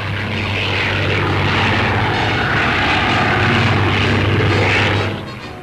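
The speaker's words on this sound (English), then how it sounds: "Originally designed as an airliner, this aircraft has seen much service over the Atlantic." A loud multi-engine propeller aircraft, originally designed as an airliner and used for Atlantic service, drones steadily overhead with a strong low hum and broad roar, fading slightly at the end.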